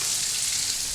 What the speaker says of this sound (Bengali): কাতলা মাছের মাথা ভাজা হচ্ছে